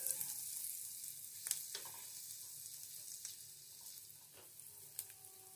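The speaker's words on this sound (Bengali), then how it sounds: "রসুন কুচিকে হালকা করে ভেজে নেব।" Chopped garlic frying lightly in melted butter for mushroom soup, a faint, steady sizzle with occasional soft clicks and scrapes of a spoon stirring in the pan.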